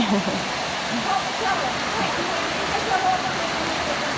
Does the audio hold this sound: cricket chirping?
no